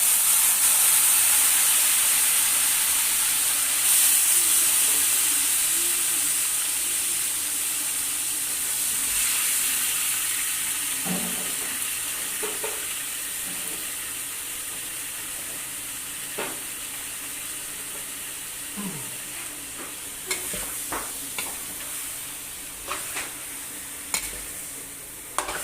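Chicken pieces dropped into a little hot oil in a handi for restaurant-style achari chicken, giving a steady broad sizzle and hiss with occasional stirring clatter, close and continuous, fading slightly over time.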